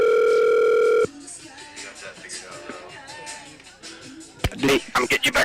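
A steady telephone dial tone hums loud and alone for about a second after a dropped call during a broadcast of a Peninsula Oilers vs. Anchorage Glacier Pilots baseball game, then cuts off to quieter background noise and later bursts of voices.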